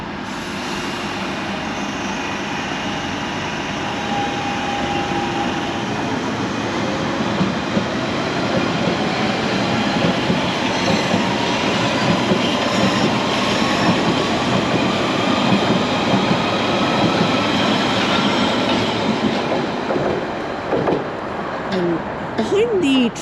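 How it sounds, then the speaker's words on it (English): A London Underground Central Line train pulls out of Leytonstone toward Epping, with a continuous loud rumble, a rising motor whine and rhythmic wheel clatter building as it gathers speed. A voice talks faintly underneath. "Anyway, we got this train leaving for Epping."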